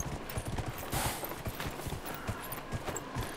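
Hooves clip-clop steadily over very rough ground in a rainy video game landscape, an uneven rhythm of close, quick strikes under a constant hiss of rain and ambience.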